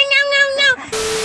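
A cat gives a short, loud, drawn-out meow with a wavering pitch, followed by a brief burst of hissy noise.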